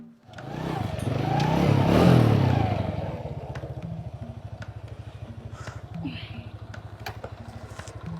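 A motorcycle engine revs up loudly, then settles into a steady rapid idle chugging, close by.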